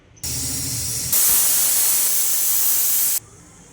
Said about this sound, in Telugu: చూడండి ఒక విజిల్ వచ్చింది కదా